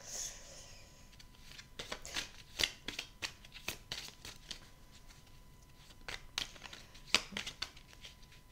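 Oracle cards are shuffled and drawn by hand, a series of quiet close-up riffles, snaps and paper flicks in an irregular rhythm.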